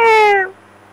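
A human voice imitates a cat, giving one clear, loud, drawn-out meow that slides downward and fades within half a second.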